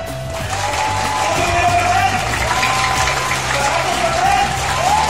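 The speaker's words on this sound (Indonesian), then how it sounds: "tepuk tangan." A seminar crowd in a hall claps loudly and continuously, with some cheering mixed into the applause. Voices murmur underneath throughout.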